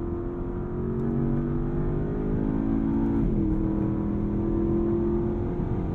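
A Porsche Panamera GTS Sport Turismo with a V8 accelerates hard, its engine note climbing steadily, dropping briefly on a quick gear shift, then pulling up again, heard from inside as a continuous droning growl.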